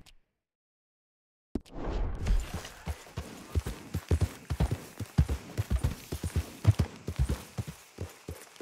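Horse hooves clop in a fast, rhythmic gallop in the video game Red Dead Redemption 2, starting abruptly after a short silence and continuing close and steady to the end.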